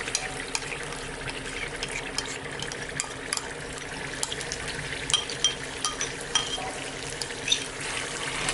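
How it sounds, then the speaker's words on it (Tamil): Ground red chilli paste sizzles in hot sesame oil in a pan. A steady, moderate frying hiss carries faint bubbling and a few small crackles and spatters throughout, with no voices. "இப்போ எண்ணெய் நல்லா காஞ்சிருச்சு. அதில் வந்து நம்ம அரைச்சி வச்சிருக்கிற பேஸ்ட்டை சேர்த்துடலாம்"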